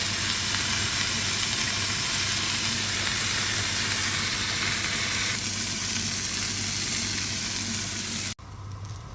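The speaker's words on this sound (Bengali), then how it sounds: "ধনিয়া পাতাটা আমার ভাজা হয়ে গেছে" Coriander leaves and onion fry in a pan with a dense, continuous sizzle that stays close and loud, then drops abruptly near the end.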